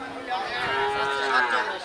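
A large, bony bull at a livestock market gives one long, drawn-out moo, close and loud, filling the short moment with faint crowd noise behind it.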